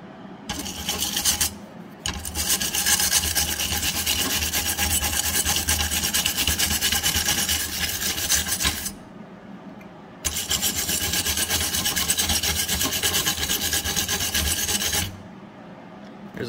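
Wire brush scraping soot off an aluminum MIG weld bead (4043/5356 wire, Miller Spoolmate 100), a loud close rasping scrub in long steady strokes with brief pauses between bursts, no talking.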